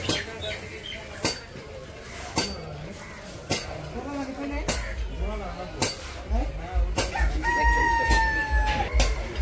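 Chickens cluck and squawk nearby amid a busy village market, with people talking and scattered clinks and knocks around them.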